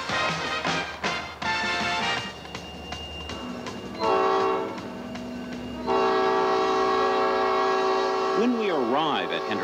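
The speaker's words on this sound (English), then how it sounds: "This mile-long train is on its way to Hendersonville, 20 miles away." A mile-long Southern Railway freight train works a mountain grade on the way to Hendersonville. Loud horn blasts sound repeatedly over a steady rumble of the rolling train, with a final rising and falling whine near the end.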